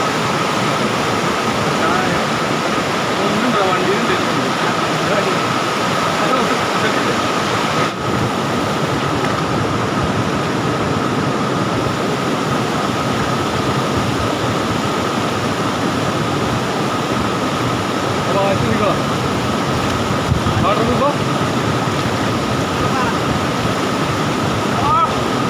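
Water pours continuously over the rocks at Adyanpara waterfall in Kerala, a loud, steady roar that never lets up.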